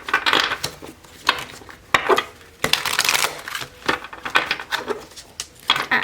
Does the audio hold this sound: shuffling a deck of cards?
yes